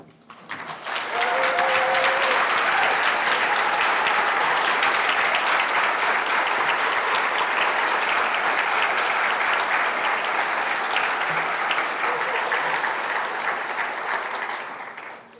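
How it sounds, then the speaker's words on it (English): Sustained, dense round of applause from an audience at a fellowship event, rising quickly and holding steady for the full length, with a few faint voices or whoops near the start, then fading at the close. "All of the fellows, please stand as you are able for a round of applause."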